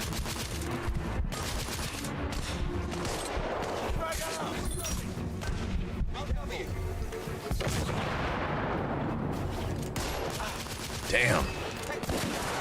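Sniper rifle shots ring out amid heavy battle gunfire in The Order: 1886, dense volleys and booms rolling on for several seconds while a player talks over the action.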